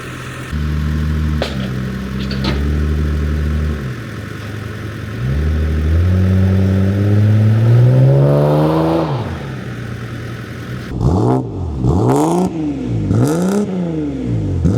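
A supercharged Holden VT Calais engine idles with a steady low rumble, then revs up in a rising whine, followed by several sharp, repeated throttle blips close by.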